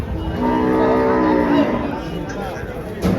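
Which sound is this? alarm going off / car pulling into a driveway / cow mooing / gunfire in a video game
cow mooing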